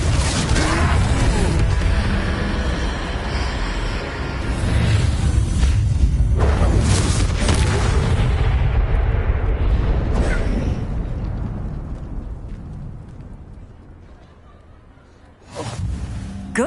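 A Confringo fire spell explodes during a troll fight in Hogwarts Legacy, a loud booming blast with a rumbling, crackling tail that fades over several seconds before another burst.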